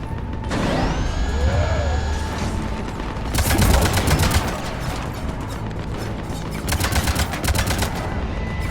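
Cannon fire and rapid gunfire during the assault on Omega in Mass Effect 3, with loud bursts of shots and mechanical clanks, a rising whine, then heavy rattling volleys that return near the end.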